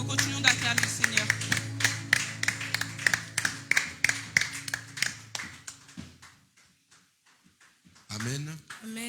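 A church congregation claps steadily to acclaim the Lord, with crisp rhythmic handclaps under singing voices. The claps thin out to scattered, sparse ones before a voice rises again.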